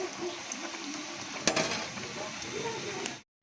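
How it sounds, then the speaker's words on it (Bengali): Lentil fritters (dal bora) frying in oil give a steady, soft, close sizzle, broken by one sharp clack midway, before cutting off abruptly at the end. "এগুলো ভেজে নিই, ভেজে চিচিঙ্গাটা ভাজবো"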